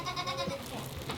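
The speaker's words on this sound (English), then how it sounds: "Where's the other goat?" A goat bleats faintly in a barn during a birth, a wavering cry heard at a distance under ambient noise.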